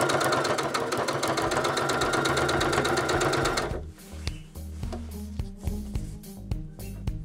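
A sewing machine stitches along a zipper with a zipper foot on upholstery fabric, running in a loud steady mechanical whir for nearly four seconds, then slowing into scattered knocks and short bursts of stitching.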